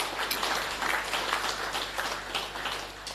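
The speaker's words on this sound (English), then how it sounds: "So I really think we can give a special round of applause to that." Audience applause at a rugby club awards evening, a continuous wash of clapping from a large gathering held at an even level for a few seconds.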